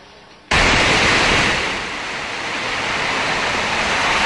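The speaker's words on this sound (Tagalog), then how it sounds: "Umaga pa lang malakas ng buhos ng ulan sa Benguet. Malabagyo ang hagupit ng hangin." Heavy rain and strong typhoon-like wind lash a road in Benguet, a sudden loud, dense roar of downpour and gusts that stays steady and broadband after a quiet start.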